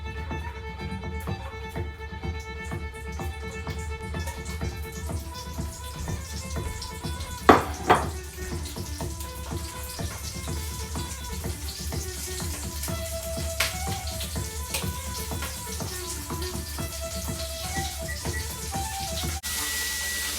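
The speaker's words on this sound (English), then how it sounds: "We'll sear our sausages about 2 minutes each side." Sausages searing in a smoking hot pan over medium heat, a steady close hiss and crackle that continues throughout, with a few sharp spits and pops partway in.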